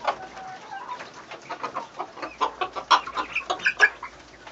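A rooster gives a run of low clucking calls, rising into quicker, louder bursts, close by with other fowl faintly around.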